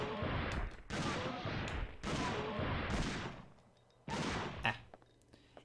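Gunfire from the Dino Crisis 2 video game: several loud, rough bursts of shots in quick succession, separated by short pauses, with a final sharp report fading out.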